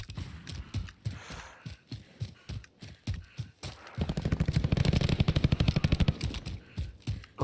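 Rapid bursts of video game gunfire crack in quick succession, building into a dense automatic stream near the end, loud and close with no talking.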